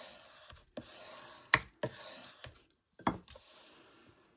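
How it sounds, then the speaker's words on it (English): Paper being burnished down with a tool while making a handmade recipe book: several short, close rubbing strokes with quiet pauses between them, dry and scratchy, with no speech. "we're just gonna burnish that down."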